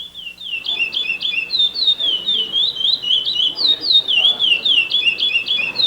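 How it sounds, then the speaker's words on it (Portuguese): A master curió (Oryzoborus angolensis) sings above its brood, a loud, close run of rapid whistled, warbling phrases repeated continuously over quiet background noise. "tendo um curió mestre cantando em cima das ninhadas"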